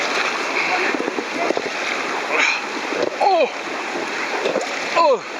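Paddles splash through water as a boat moves along the Nam Wa river at Kaeng Khon rapids, with rhythmic nearby splashes under lively shouting voices and calls.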